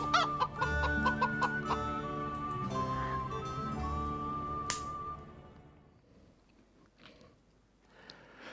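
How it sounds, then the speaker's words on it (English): Several chickens cluck and squawk up close in short, uneven bursts. A higher tonal call stands out in the middle, and the sound fades into quieter scattered clucks at the end. "Chickens."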